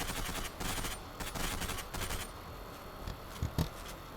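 Video game gunfire from a KTR weapon comes in bursts of rapid automatic shots with short gaps between volleys, loud and near, followed by a couple of sharper single cracks near the end, with no talking.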